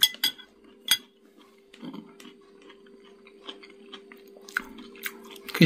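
Quiet close-up chewing of crisp, briefly cooked broccoli, with soft bites and crunches, a few sharp clinks of cutlery on a dish, and a steady low hum underneath.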